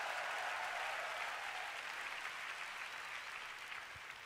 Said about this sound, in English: If you're happy and you know it, come on, clap your hands and praise God.